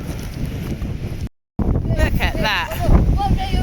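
Strong seaside wind on a rainy day at the coast near Ifach, buffeting the microphone with rough gusts while people talk over it, broken by a brief silent gap.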